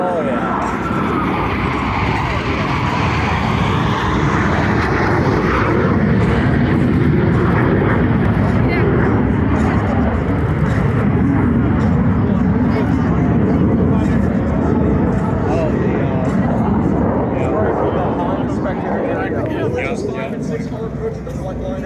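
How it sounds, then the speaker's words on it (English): U.S. Navy Blue Angels jets roar past at an airshow, a loud sustained rushing engine noise that swells and slowly fades, with spectators talking underneath. "Approaching the flight line at 400 miles per hour."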